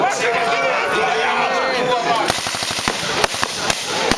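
Gunfire at a battle reenactment during a museum night event: a rushing blast gives way to rapid bursts of sharp shots crackling in quick succession, with crowd noise underneath.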